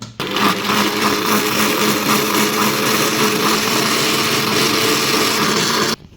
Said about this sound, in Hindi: ग्राइंडर में डाल दिया अनारदाना। अब हम इसको करेंगे ग्राइंड।